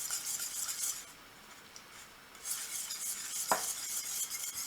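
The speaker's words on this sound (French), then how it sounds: "Je mélange tout." Eggs, icing sugar and cocoa are mixed into a chocolate tart filling in a saucepan taken off the heat, giving quiet, close scraping and swishing in soft bursts with a single light clink.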